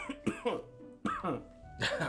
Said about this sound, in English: Maybe that's why you have that cough.